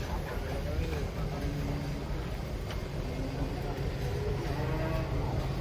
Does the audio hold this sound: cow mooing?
yes